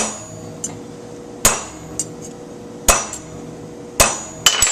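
Hammer striking a sheet of copper being shaped into a leaf with a vein, sharp metallic blows landing singly and in irregular pairs, loud and ringing, with a low steady hum of machinery underneath and no talk.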